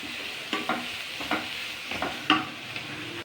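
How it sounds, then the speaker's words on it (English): Grated carrot mixture stirred in a frying pan, a low background sizzle punctuated by a series of distinct spatula scrapes and taps at irregular intervals. "And give a more good mix for 3 to 4 minutes."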